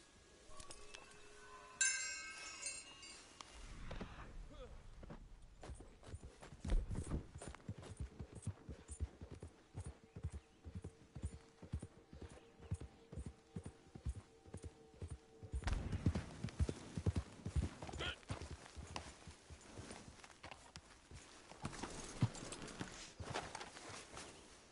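Horse hooves clip-clop steadily at a brisk trot in the video game Red Dead Online, close and continuous, with a few glassy clinks early and a denser stretch of hoofbeats later.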